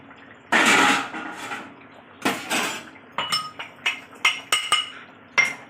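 A metal lid clatters onto a cooking pan of Bengali taro-root and tangra fish curry, one loud clang then a string of short, sharp clinks and taps near the mic, with quiet gaps between.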